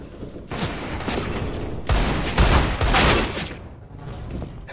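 Bursts of gunfire from the shooter game CS:GO crackle in close, loud clusters with a short quiet gap between volleys, no talk over them.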